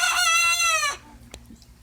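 A rooster among hens lets out a loud, close crow lasting about a second. It cuts off sharply and gives way to quiet farmyard ambience with a single faint click.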